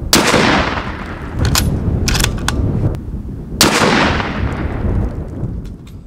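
Rifle shots fired with open sights from shooting sticks while hunting at longer range: two loud, sharp cracks about three and a half seconds apart, each followed by a long rolling echo, with fainter pops in between.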